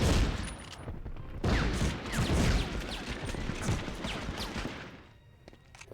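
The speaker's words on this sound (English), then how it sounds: "Who is shooting at me?" Dense gunfire from Medal of Honor (1999) keeps up a steady rattle of overlapping shots, loud and close, easing off near the end.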